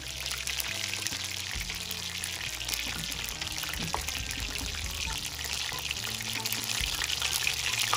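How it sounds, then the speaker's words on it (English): Steady crackling sizzle of chicken frying in hot oil, continuous and close, with a low humming background underneath. "we're going to go back on our chicken frying"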